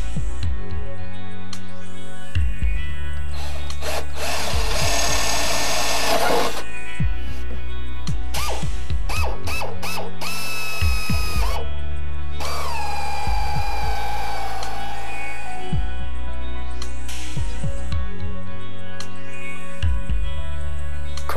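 A power drill whines in repeated bursts of varying length, interspersed with sharp metallic taps and knocks from a punch marking mounting holes for a boat bow thruster, close and loud.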